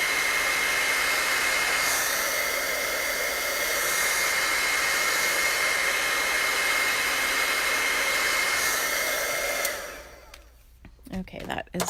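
A hair dryer blows steadily and loudly on paint on a card for about ten seconds, then cuts off, leaving faint handling clatter.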